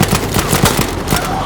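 Rapid gunfire rattles in short bursts through a first-person shooter game, loud and close, with game ambience underneath.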